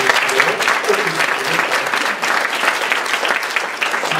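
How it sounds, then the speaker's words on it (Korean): Church congregation applauding after an ordination announcement at a Korean Reformed church service, steady dense clapping filling the room for several seconds with no clear talk over it. "박수로 여러분"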